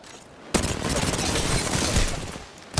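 Gunfire in the video game Apex Legends: after a quiet half-second, a dense, loud burst of rapid automatic shots rattles continuously for about two seconds, then tapers off, with no talk over it.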